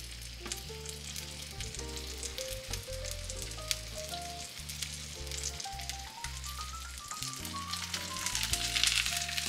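Salt-grilled mackerel frying skin-down in a lightly oiled pan over low heat, a steady close crackling sizzle that continues throughout, with soft background music.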